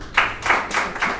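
Audience applause at a Christian ministry gathering, rising in four brief swells of clapping over about a second, moderately loud and without speech.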